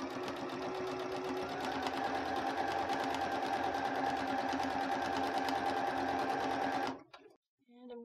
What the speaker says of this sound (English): Now I'm going to start at the top of this curve, and I'm going to sew all the way down.